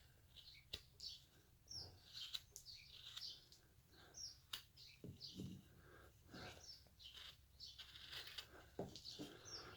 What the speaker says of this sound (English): I guess I got some birds chirping.